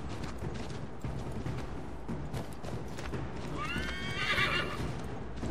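Hooves of a horse in the Assassin's Creed 3 video game clopping steadily through the scene, broken by a sharp whinny near the end.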